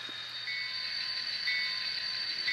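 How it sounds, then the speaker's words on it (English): A Conrail model train runs around the loop of a layout with a steady, faint rolling hum and a high mechanical whine that holds level throughout, with no talking. "the Conrail train comes around the loop and will park on staging track 1."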